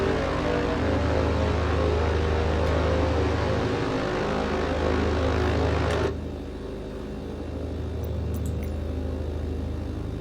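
BN-2 Islander twin propeller engines droning steadily in a flight simulator, a loud continuous hum that dips and shifts in tone partway through, no voices.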